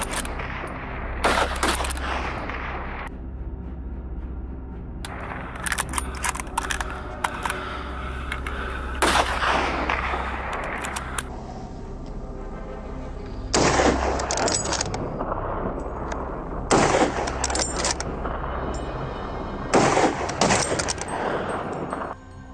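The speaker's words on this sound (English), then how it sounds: "The forest echoed with gunfire, each shot dropping another beast in its tracks." Rapid bursts of rifle gunfire ring out in a forest during a large-scale wild boar hunt, several loud volleys of repeated shots separated by brief pauses, echoing across the woods.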